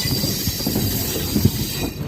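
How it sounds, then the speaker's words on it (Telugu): Close, loud clatter of train wheels on the track as a train rolls into Visakhapatnam junction, with rhythmic thumps over a steady rumble and a faint high squeal. "బాబా సౌండ్ చూసారు అసలు ఆ ట్రాక్ సౌండ్స్."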